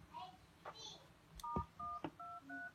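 Keypad tones from a used mobile phone dialing a prepaid balance check, with a series of short, even electronic beeps, faint and close, among soft background voice sounds.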